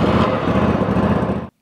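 Toro Timecutter mower deck running with a new drive belt fitted, a loud, steady engine drone with deck whir close by that cuts off abruptly.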